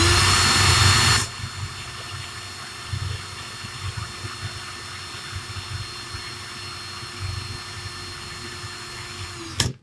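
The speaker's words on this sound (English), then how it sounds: "drill in reverse" A drill runs in reverse during a coil build, whining loudly for about a second before dropping to a quieter steady hum with faint mechanical rumble, then a brief burst at the end.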